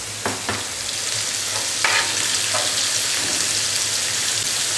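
Onions fry steadily in a pan with a continuous broadband sizzle, punctuated by a few brief stirring scrapes and clicks; close and moderately loud, with no voices.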